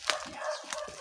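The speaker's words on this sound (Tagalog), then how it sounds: "May aso" A couple of short, distant dog barks, separated by quiet moments, faint against light background noise.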